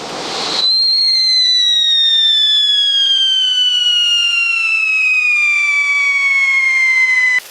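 A firework in a Diwali celebration video game gives a short burst, then a long high whistling tone that slowly falls in pitch, loud and steady with no talk.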